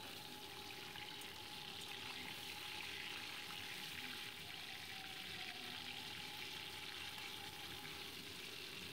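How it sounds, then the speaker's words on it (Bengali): Tilapia fish fry in hot mustard oil in a kadai while being turned over. A faint, even sizzle hisses steadily throughout with no talking. "মাছগুলো দেখো উল্টে পাল্টে আমি ভেজে নিচ্ছি"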